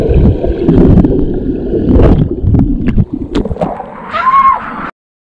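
Water sloshing and gurgling loudly around a device as it dives underwater, churning close to the microphone with bursts of splashing before cutting abruptly to silence.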